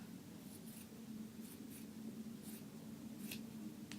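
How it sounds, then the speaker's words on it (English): Scissors cutting a t-shirt into vertical fabric strips, a series of faint, soft snipping and slicing strokes in a quiet room, roughly evenly spaced, no talking. "Cut them vertically up. So we're just going to cut the strips."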